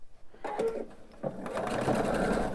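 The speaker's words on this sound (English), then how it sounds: "and continue sewing." A sewing machine runs steadily at close range, stitching binding onto a quilt in one continuous whirring burst after a brief start.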